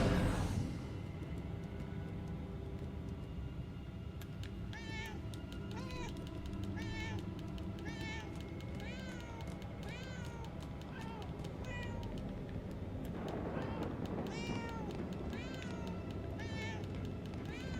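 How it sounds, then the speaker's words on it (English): A video game cat meows repeatedly in a steady series of short, rising calls over a dense low rumble, with a brief pause midway. "I hear a cat."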